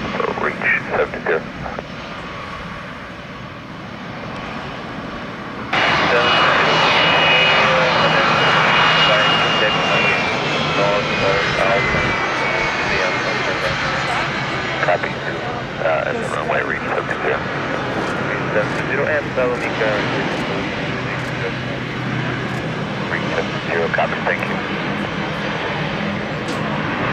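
A large aircraft roars down the runway on takeoff, its engine noise surging abruptly and then holding a loud, steady rushing drone, while radio chatter and voices come and go over it.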